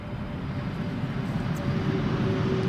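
A steady, broad jet roar from a KLM airliner at Amsterdam Schiphol Airport fills the air at moderate distance, holding level throughout with no speech.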